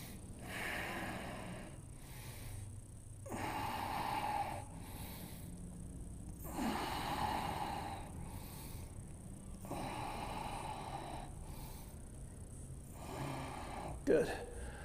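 Slow, deep breaths drawn in and pushed out during a yoga twist in a strong vinyasa flow class, several long inhale-exhale cycles repeating steadily at close range with a short sharp sniff near the end.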